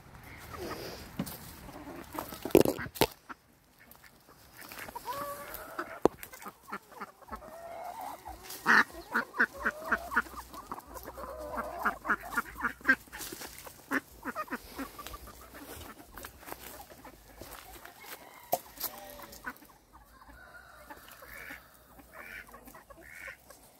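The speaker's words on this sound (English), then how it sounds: "Damn chickens" Homestead chickens clucking and squawking in bursts, with loud rapid cackling in the middle and scattered calls throughout, fairly close, with no talk.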